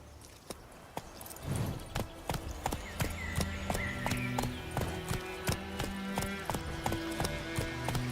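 Geralt's horse Roach in The Witcher 3 trotting with a steady rhythmic clip-clop of hooves, brief snorts and game music underneath.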